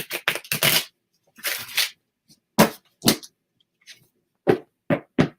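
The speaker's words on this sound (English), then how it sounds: "send your energy to the cards now, and we will try and feel where we should stop shuffling" Tarot cards are shuffled in a series of quick riffling bursts of varying length separated by pauses, close, crisp and fairly loud.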